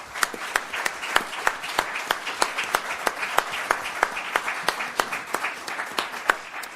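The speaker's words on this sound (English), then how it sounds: "let's have a nice round of applause for our candidates." A small audience at a city council candidate forum claps, with distinct individual hand claps at a brisk, uneven rhythm that sounds sparse and close rather than a dense roar.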